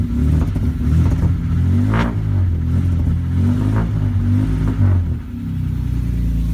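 A motor running on old stale gas revs hard and steadily, a loud, close, continuous engine roar with a few surging pushes and rattly clatter, no talking.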